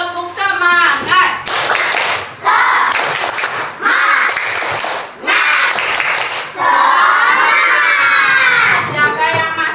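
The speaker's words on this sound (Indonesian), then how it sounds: "Oke, sebelumnya kita tepuk semangat dulu ya. Tepuk semangat." Schoolchildren perform a rhythmic spirit clap, tepuk semangat, in a classroom: bursts of loud patterned clapping mixed with shouted chanting voices, close and energetic, with brief pauses between phrases.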